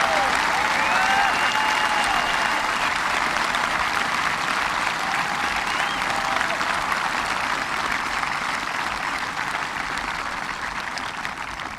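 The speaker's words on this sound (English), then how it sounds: "Please join me in a round of applause for these students and all the men and women serving in our country, past and present." Sustained applause from a large audience at a 2018 high school graduation ceremony, a dense, steady clapping that fills the room and slowly tapers toward the end.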